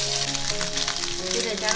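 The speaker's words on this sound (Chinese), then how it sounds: "取个平底锅，加入少许油， 把提前剁好的肉末放下来煸出油" Minced pork fries in a little oil in a flat pan, crackling and sizzling steadily up close, with faint background music tones underneath.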